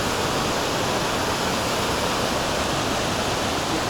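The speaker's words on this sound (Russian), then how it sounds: "Сразу можно видеть вот этот водопад, который идет сверху." A waterfall pours down near hot springs on a Nepal trek, making a loud, constant hiss and roar of water with no pauses or voices.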